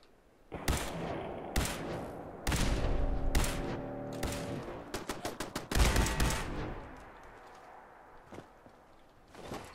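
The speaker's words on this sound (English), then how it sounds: "He's even turned the turrets on to shoot at us." Laser turrets firing at the player in Fallout 4, sharp repeated zapping shots in irregular bursts, some rapid and overlapping, loud and close with no talking.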